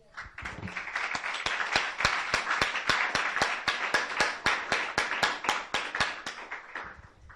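A church congregation claps in steady unison, sharp regular beats about three per second under a diffuse wash of scattered hand claps, loud and close, fading at the end.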